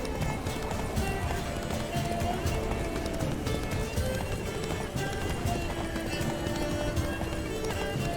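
A horse gallops in the video game The Witcher 3: Wild Hunt, rapid rhythmic hoofbeats running throughout over game music, with someone talking on top.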